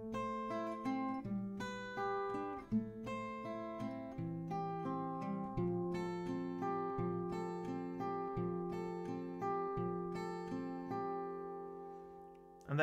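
Acoustic guitar plays the chorus melody slowly, plucked notes ringing over a steady low accompaniment for several bars, close and alone.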